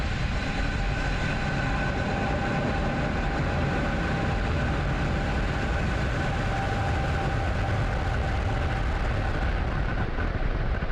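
SpaceX Falcon 9 rocket lifting off from Launch Complex 39A, a dense, steady broadband roar that stays loud and unbroken for the whole stretch, with no talk over it.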